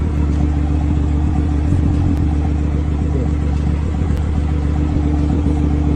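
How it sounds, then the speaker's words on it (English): A car engine fitted with an aftermarket downpipe idles and revs steadily, a loud, continuous low rumble with a rough, droning exhaust tone and no clear peaks, heard alone without speech. "downpipe on my car. It sounds so good. Yo, rev it."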